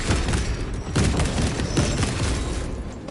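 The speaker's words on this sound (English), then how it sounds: "Deploying crack grenade." Crack grenade blast in Space Marine 2, a burst of heavy booms and crackling detonations over a dense rumbling battle din, with several sharp hits in close succession.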